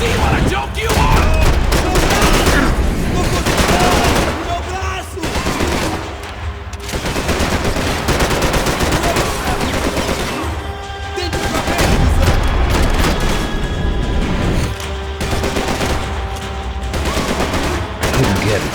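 Sustained automatic gunfire and rapid shots in the video game Max Payne 3, loud dense bursts continuing almost without pause, with short lulls between volleys.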